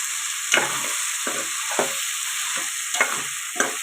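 Spice masala of ground coriander and turmeric being stirred into a sizzling dried-snail and brinjal curry, with a steady frying hiss under about five scraping spoon strokes.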